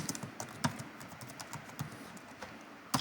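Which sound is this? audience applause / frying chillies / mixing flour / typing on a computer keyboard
typing on a computer keyboard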